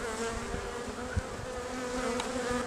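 Stirred-up honey bees buzz steadily around an opened hive during a spring inspection, a close, dense drone with occasional louder passes near the microphone.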